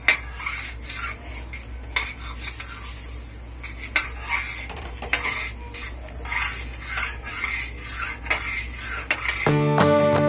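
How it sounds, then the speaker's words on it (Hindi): A spoon stirs sugar into milk in a pan for milk cake, scraping and clinking against the metal in a close, repeated rhythm with a low background hum and no talking. "अब मैं इसमें डालूंगी थोड़ी थोड़ी करके चीनी, एक साथ चीनी ना डालें, थोड़ी थोड़ी करके डालें"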